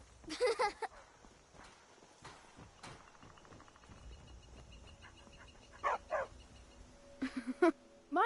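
A dog in the video game Skyrim lets out several short, yappy barks, one burst early and a few more near the end, over low game ambience and footsteps.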